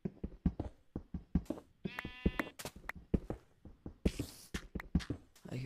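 Minecraft sheep bleat a few times in the Alpha version of the game, sharp nasal calls amid a busy run of close clicky footsteps and block sounds at low overall volume.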